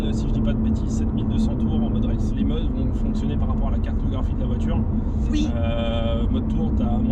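Lotus Evora GT410 Sport engine cruising at low load, a deep steady rumble with road noise heard from inside the car, as someone talks over it.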